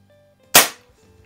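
A single sharp crack from a Barra 1858 CO2 BB repeater revolver, close and loud, with a fast decay into near silence before and after.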